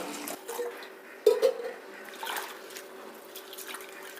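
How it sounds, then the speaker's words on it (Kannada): Water splashes over poha (flattened rice) as it is rinsed in a container, soft sloshing and dripping with a brief louder splash, close and fairly quiet, without speech. "ಇದನ್ನು ಫಸ್ಟು ನೀರು ಹಾಕಿ ಚೆನ್ನಾಗಿ ವಾಶ್ ಮಾಡಬೇಕು"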